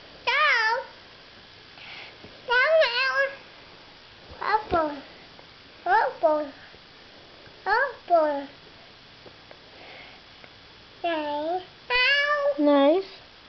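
A pet cat meows repeatedly indoors while being petted with a child's foot, a series of short, clear rising-and-falling cries spaced a second or two apart, fairly close, with soft background sounds and no clear talk.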